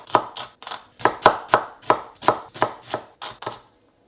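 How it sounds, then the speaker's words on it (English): Onions roughly chopped with a knife on a cutting board: about a dozen crisp, close knocks in an uneven but steady rhythm, then silence. "So take 2 medium onions or 1 large and just roughly chop it up."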